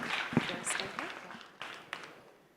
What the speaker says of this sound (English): Another round of applause for Vanessa Tafadhali.